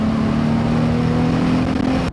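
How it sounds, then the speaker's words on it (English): Nissan 350Z V6 fitted with a Nismo S-Tune exhaust, stock cat and headers, holding a steady droning rev for about two seconds before cutting off abruptly. "Nismo S-Tune exhaust"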